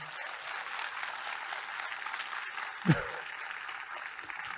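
A church congregation applauding during a Sunday service, a steady moderate wash of clapping that carries on throughout, with a brief louder thump partway through.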